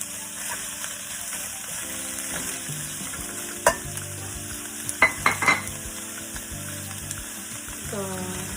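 Vegetables for fresh lumpia (bean sprouts, cabbage, sweet potato and turnip) sauté in a pan with a low, steady sizzle, broken by a few sharp clinks and scrapes of stirring, while a voice talks faintly.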